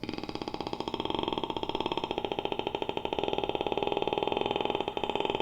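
A voice imitates a motorcycle engine, a steady buzzing putter with a rapid pulsing rhythm, held for several seconds.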